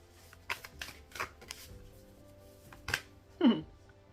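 Oracle cards being shuffled by hand during a divine feminine healing card reading, a run of soft papery riffles and flicks at close range, with no voice over them.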